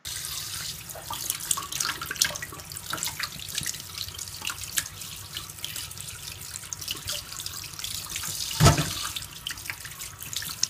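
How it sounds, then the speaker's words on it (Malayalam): Sardines are rinsed under a running kitchen tap into a sink, a steady, fairly quiet rush of water with small splashes and one brief louder knock near the end, with no talking. "നമുക്കിനി ഇതിനെ നന്നായി കഴുകിയെടുക്കാം."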